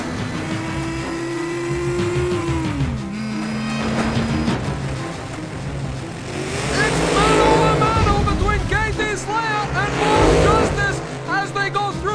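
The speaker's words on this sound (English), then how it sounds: "KT Slayer is in the lead as the races head for the sewers!" Race vehicles roar through a sewer stretch of the Eliminator Challenge, a loud continuous engine drone with a rising whine and passing surges, mixed with music and effects under a talking voice.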